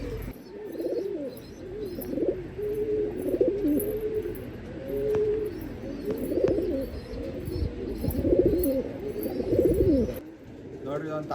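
Pigeons of a top-quality breed, including a large blue male, coo in soft rolling bursts with some chirps throughout, fairly close, while people talk in the background.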